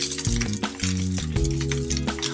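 Cooked rice crisps in a frying pan, pressed flat to turn golden. A steady, close sizzle carries on throughout, broken by a few scraping or stirring sounds.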